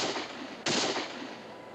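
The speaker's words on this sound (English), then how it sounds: "Shots are coming from the garrison, all right, but they're not shooting at us." A single sharp gunshot from a fort garrison in a period TV drama cracks out mid-clip over a steady background rumble, then rings off into a fading tail.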